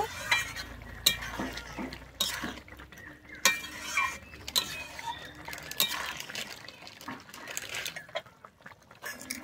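A spoon scrapes and clinks against the pan while garam masala is mixed into pea ghugni, with irregular close stirring strokes at a moderate level and brief indistinct voices underneath.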